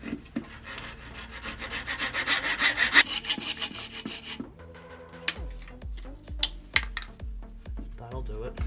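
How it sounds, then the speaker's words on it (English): Hand-held saw cutting through a piece in a car workshop on an E36 project, rapid rhythmic rasping strokes close and loud for about four seconds, then stopping, followed by scattered clanks and knocks. "I'll probably get tired of using a handsaw and find something a little more powerful very quickly"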